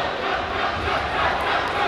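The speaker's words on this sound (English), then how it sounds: "The Valley cheer block trying to get in the head of these Warsaw players" A student cheer block yells as a girls' high school basketball player shoots a free throw, a dense, loud, unbroken wall of crowd noise filling the gym.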